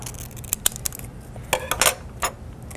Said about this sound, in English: I don't want that, so I'm gonna cut that off.